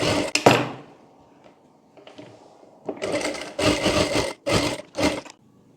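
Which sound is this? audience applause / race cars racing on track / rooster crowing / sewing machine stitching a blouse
sewing machine stitching a blouse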